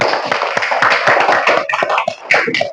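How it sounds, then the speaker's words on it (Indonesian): A class of schoolchildren claps hands together in a loose, uneven rhythm of quick bursts, close and fairly loud, filling the room for a few seconds. "Tepuk tangan semuanya"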